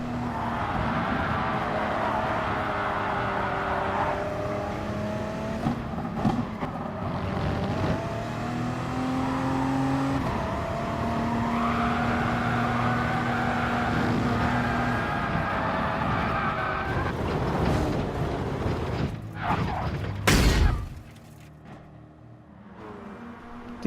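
Race car engine in the Gran Turismo Sport racing game, revving hard under acceleration, with shifting pitch as the throttle lifts for corners, loud and continuous before cutting off sharply near the end.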